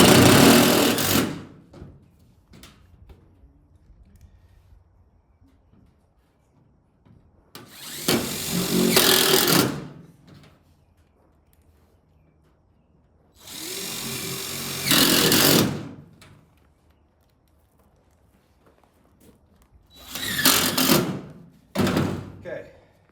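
A power drill drives stitching screws in roughly four loud bursts of a few seconds each, whining at close range, separated by quieter stretches with faint handling noises.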